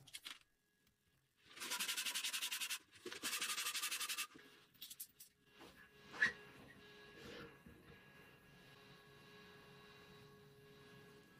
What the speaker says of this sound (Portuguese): eu precisava tirar 1 milímetro do diâmetro das varetas para que elas se encaixassem dentro dos blocos da perna. Então, usei uma lixa velha para isso